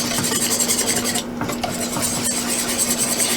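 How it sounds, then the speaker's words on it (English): Steady metal whisk scraping and stirring through thick cheese sauce as cheese is worked in a handful at a time for mac and cheese, a continuous close rasping swirl with a brief pause midway. "a handful at a time and you whisk it in"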